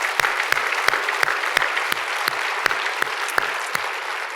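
Crowd applause for city employees at the Hampton State of the City mayoral address, a steady, loud patter of many hands, with a few sharp individual claps punctuating it at regular intervals, and no talking.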